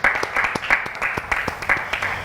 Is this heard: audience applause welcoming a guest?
yes